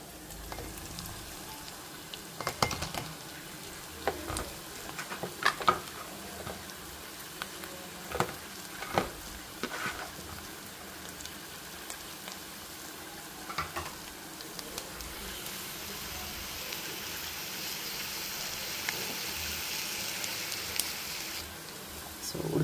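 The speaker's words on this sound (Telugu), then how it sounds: "ఇప్పుడు నేను ఉడకబెట్టి స్మాష్ చేసుకున్న ఆలుగడ్డ అయితే వేసేస్తున్నాను అందులో" Boiled, mashed potato goes into a pan of fried onions, making a soft, steady sizzle with scattered scraping and stirring knocks. The frying grows louder and hissier toward the end, and there is no talking.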